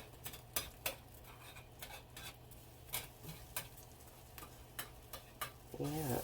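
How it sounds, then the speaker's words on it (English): A spoon stirs tuna into gravy in a pan, scraping in regular strokes over a soft sizzle, close and steady, with a brief voice at the end. "we're just going to mix that tuna right in there with your gravy"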